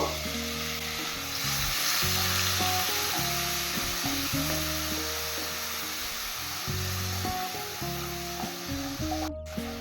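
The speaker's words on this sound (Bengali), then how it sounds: "এবার সামান্য একটু জল দিয়ে মশলা ভালো করে কষিয়ে নেব।" Spice paste of coriander, Kashmiri chilli and turmeric powders with a little water frying in a pan for moong dal, a loud continuous sizzle and hiss with stirring, alone and close, under a steady low hum.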